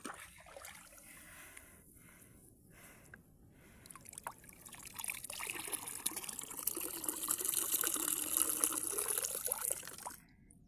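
Water trickles and gurgles steadily at a river, starting soft and growing louder and nearer toward the end, with no voices over it.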